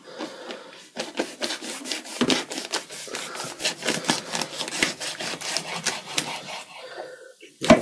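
A knife saws through a thawed goose roll, producing repeated close rubbing, scraping strokes in a steady back-and-forth rhythm that carries on through most of the clip.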